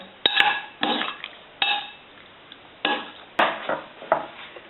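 Cucumber salad with Greek yogurt, mayo and fresh herbs being stirred in a bowl, a utensil scraping and knocking against the dish in about six loud strokes with short pauses between them.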